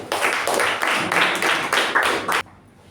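Audience applause welcomes Toastmaster Sakshi onto the stage at a Toastmasters club meeting: dense, steady clapping from a roomful of people that swells in waves and then stops abruptly.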